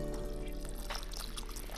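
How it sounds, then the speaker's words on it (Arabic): Water pours steadily into a pot over chopped zucchini and potato for soup, a continuous close splashing stream lasting a couple of seconds with no talk. "نزيد لها مي لحد ما انه يغمرها"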